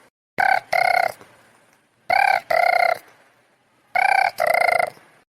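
A telephone rings loudly in three double-pulse bursts separated by short pauses, with no talking.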